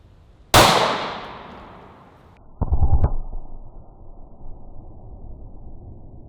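A 9mm gunshot fired into a bare ballistics gel block: one sharp, loud crack that rings and decays over a second or so, then a second shorter bang a couple of seconds later, followed by a low lingering rumble.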